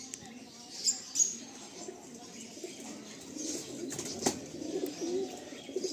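Pigeons in a loft holding a hundred birds in Garia, Kolkata, some of them young, coo softly through a low, steady bed of rustling and chatter, with a couple of brief louder calls early on and a faint human voice.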